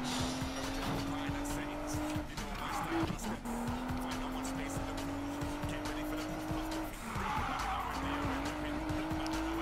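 Car engine in Need For Speed Payback, a steady loud whine rising through gears with tire squeals and skids, a slower car driven hard in a racing video game, with talk over the engine.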